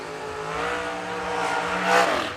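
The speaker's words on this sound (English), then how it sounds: "I hear the engines coming this way." Drag racing car engines at an end-of-year racing event rev and build in a steady rising roar, moderately distant, swelling louder near the end with no talk.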